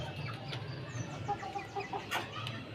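Hen clucking at a farmyard coop, soft repeated clucks and short calls over steady background noise, with no talk.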